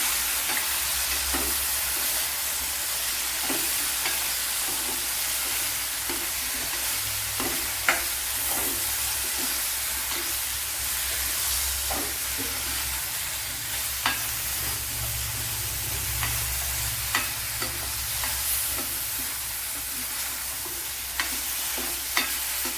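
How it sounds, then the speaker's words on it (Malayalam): Okra frying in hot oil for a Kerala-style dish, a steady close sizzle with occasional stirring taps against the pan, continuous and without talk. "ഇവിടെ കുറച്ച് ഓയിൽ ഒഴിച്ചെടുത്തിട്ടുണ്ട്. അതിലേക്ക് വെണ്ടയ്ക്ക ഇട്ട് കൊടുക്കുക."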